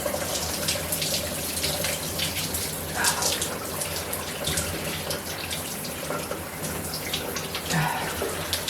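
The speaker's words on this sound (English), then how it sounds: "letting the warm water, semi-hot water hit me all over" Warm shower water pours steadily over a person during a hydrotherapy routine, a loud constant hiss and splatter close by with small shifts as the body moves under the spray.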